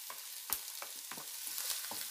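Chopped onion frying in a hot pan for beef stroganoff, a steady soft sizzle broken by brief scraping and stirring clicks, close by with no talk.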